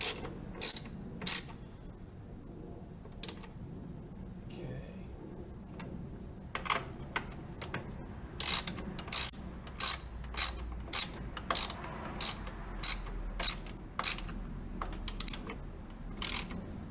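A ratchet tightens the clamp bolts on a car battery's tapered soft posts, sharp clicking strokes close up coming in scattered bursts, then a steadier series of evenly spaced clicks toward the end.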